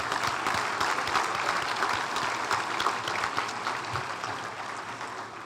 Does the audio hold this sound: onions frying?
no